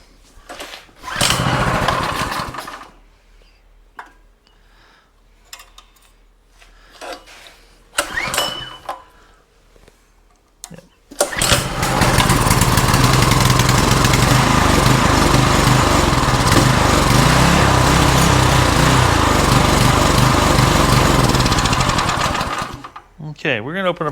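A Predator 212cc small engine running with the choke on, loud and steady for about twelve seconds before cutting out, after earlier brief sputtering attempts and some talk.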